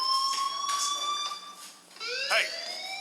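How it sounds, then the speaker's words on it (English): A fire alarm rings in the video game Life Is Strange, a loud, piercing electronic tone that warbles and pulses repeatedly, with a voice speaking briefly underneath. "Hey, do you hear that fire alarm?"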